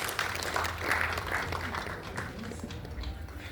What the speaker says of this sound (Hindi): एक बार तालियां बजाते हैं इस बड़ी अध्यापिका